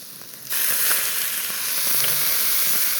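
Softened rice noodles hit a hot stir-fry pan and burst into loud, steady sizzling and hissing that carries on without pause.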